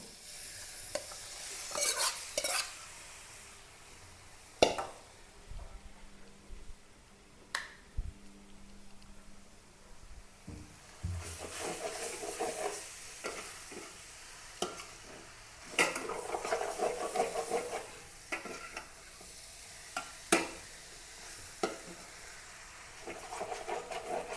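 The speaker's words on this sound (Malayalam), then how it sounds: "മാരിനേറ്റ് ചെയ്ത് വെച്ചിരിക്കുന്ന ചിക്കൻ ഇട്ട് കൊടുക്കാം." Marinated chicken tossed into a hot pan and stirred for a special chicken curry, with a quiet sizzle under intermittent scrapes and clinks of a spoon against the pan.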